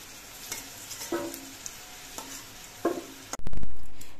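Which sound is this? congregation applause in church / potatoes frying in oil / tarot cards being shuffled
potatoes frying in oil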